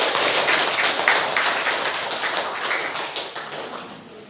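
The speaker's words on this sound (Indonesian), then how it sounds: "Tepuk tangan dulu" Classroom applause during a civics lesson, a burst of quick clapping from a group of students that begins loud and dense and then thins and fades over a few seconds.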